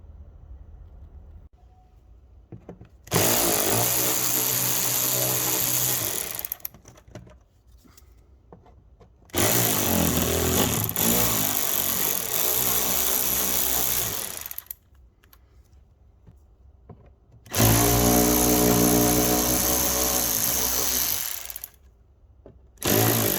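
Power tool undoing four bolts on an Alfa Romeo Giulia front bumper, three loud, close whirring bursts of a few seconds each, separated by quieter pauses with faint handling noise.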